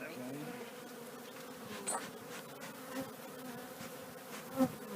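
Honey bees hum and buzz steadily around an opened hive at a church apiary, a soft continuous drone with occasional louder individual bees passing close.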